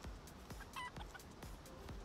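Chikipi chicken creature from the Palworld video game, giving soft clucking, gobble-like calls at a low level amid rhythmic thumping footstep sounds.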